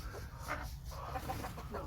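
A hen and a small rooster on a village farm give soft, brief clucks and murmurs, faint and close, against low background noise.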